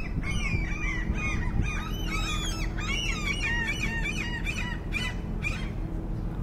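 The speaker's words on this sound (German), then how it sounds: "ich liebe das, wenn diese Möwen so schreien" Seagulls scream in a dense, continuous chorus at a Baltic seaside resort in Travemünde, their harsh overlapping calls rising and falling over a steady low rumble of harbour background noise.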